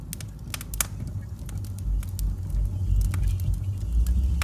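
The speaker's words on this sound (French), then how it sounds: "J'entends la voiture du patron." A car rumbles in at moderate distance with a steady low engine drone that swells gradually, sharp crackling clicks scattered over it, and no talk.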